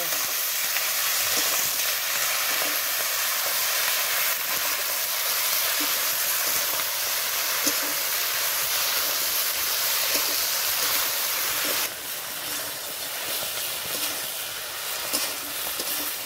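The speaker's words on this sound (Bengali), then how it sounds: "এইবার পুঁই শাকের পাতাগুলো দিয়ে দেবো। আবারও একটু কষে নেব।" Malabar spinach leaves fry with rohu fish in a pan, a continuous soft hiss and sizzle with faint stirring scrapes, moderately loud and steady, easing a little toward the end.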